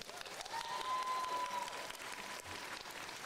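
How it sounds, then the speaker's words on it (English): An audience at a high school graduation ceremony applauds, a steady wash of clapping filling the hall at moderate level without talk over it. "A round of applause for Joseph."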